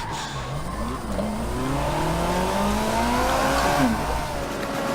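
A car spinning donuts in Forza Motorsport 7, its engine revving steadily with rising and falling pitch while the tires squeal, loud and continuous from start to finish with no talking.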